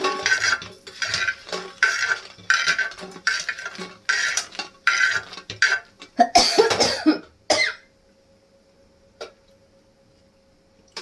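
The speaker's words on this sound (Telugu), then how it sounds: "ఇప్పుడు ఇదే పాన్లో నేను మినపప్పు వేయించుకుంటున్నాను" Urad dal roasting in a clay pan, with repeated scraping and stirring clinks and rustles in an irregular rhythm, close and moderately loud, before falling quiet.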